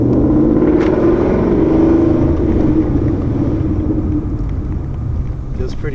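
A Ford Coyote 5.0 V8 car drives along, its engine a steady, loud low rumble that swells and eases as it moves through the gears, with some speech over the top.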